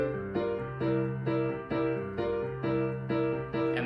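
Piano montuno with upbeat chords over a tumbao bass line, a steady repeating pattern of syncopated chord stabs and low bass notes, clear and close with no talking.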